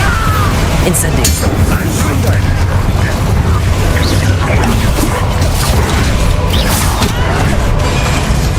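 Incendio fire spell in Hogwarts Legacy, a loud, sustained roaring whoosh of flame with scattered crackles and bursts, dense and close throughout, mixed with busy duel sound effects.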